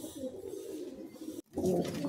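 Madrasi pigeons in a loft coo in continuous low throaty murmurs, briefly cut by a moment of silence before the cooing resumes a little louder and closer.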